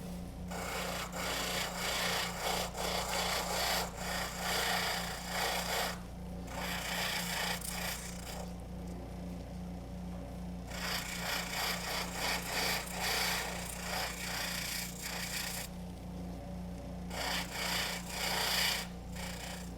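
A motorized fleshing wheel works a wood duck skin for taxidermy, a loud rasping, rubbing grind over a steady motor hum, coming in bursts of several seconds with brief quieter gaps between passes.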